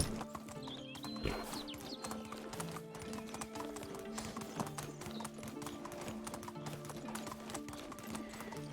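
A donkey ridden in Medieval Dynasty: steady rhythmic clip-clop of hooves at a walking pace, close and moderately loud, over faint background tones.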